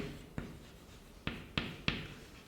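Chalk or marker strokes on a board during a chemistry lecture: four short, crisp taps and scrapes spaced irregularly, faint and close, with no talk.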